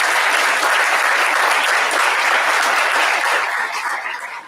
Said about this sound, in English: I got to give you guys a round of applause.